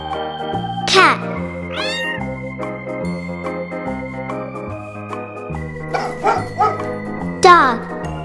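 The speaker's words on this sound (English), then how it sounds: "Cat." A cat meows several times, short rising-falling cries near and clear, spread across the stretch over cheerful looping music.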